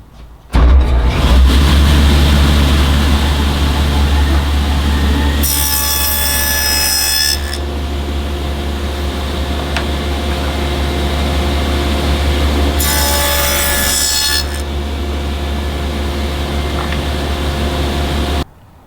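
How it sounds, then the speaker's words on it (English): A power tool cuts stop dadoes in wooden side panels, running continuously with a loud, steady whine and two bursts of harsher, brighter cutting noise as the blade bites into the wood. "I'll now show you how I cut the stop dado in the side panels."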